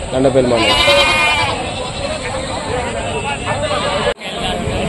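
Goats crowd the Rajarampalli livestock market, bleating repeatedly and near at hand over a steady hubbub of voices and market noise. Conversations continue throughout.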